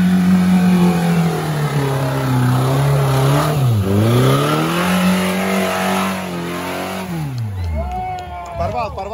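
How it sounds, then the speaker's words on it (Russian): An off-road racing car's engine with a knocking motor, likely a worn bearing, revs loudly, its pitch dipping and climbing again before dropping off, while a voice speaks over the end. "У КБР стучит мотор."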